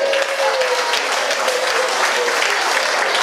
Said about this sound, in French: que je demande tout le monde de bien vouloir applaudir